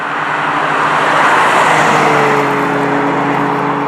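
A car drives along back roads, its engine humming steadily with road and wind noise throughout, close and loud, and the engine note shifts slightly toward the end.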